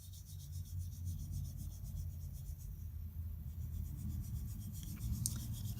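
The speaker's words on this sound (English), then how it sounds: "I'm just going to do some scratches along the sentiment" Scratchy marks scribbled along a stamped sentiment on watercolor paper, a steady soft rubbing and scraping close up that carries on for several seconds without talk.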